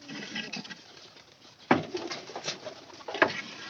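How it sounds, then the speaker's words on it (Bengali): Pigeons in a lower coop room give low, muffled coos and throaty murmurs, with a couple of sharper rustling bursts, heard faintly and at close range. "নিচের ঘরে কবুতর আছে"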